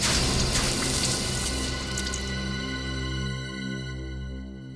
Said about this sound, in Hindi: पानी लेके आओ, पानी डालो इसे, उठा इसको।